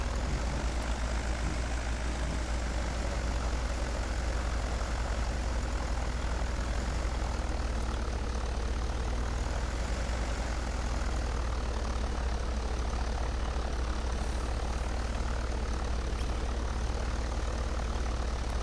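A propeller airplane's engine drones steadily and loudly throughout while taxiing toward the runway before a flight over desert mountains, with no talk.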